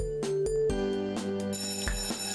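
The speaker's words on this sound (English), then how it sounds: "By the time I stumble into homeroom, the bell is already ringing." A school bell rings in a dating sim video game, a chiming electronic melody of several bright tones in quick succession, clear and alone.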